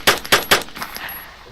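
Gunfire in the video game DayZ: three sharp, loud shots in quick succession, followed by fainter, more distant shots and a fading echo.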